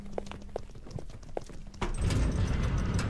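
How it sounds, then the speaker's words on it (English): Footsteps in the horror video game Poppy Playtime Chapter 2 sound as a quick series of hard, clopping steps over a humming background, giving way to a louder rumbling rush in the second half. "I hear mad footsteps right now."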